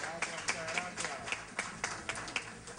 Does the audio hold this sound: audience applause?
yes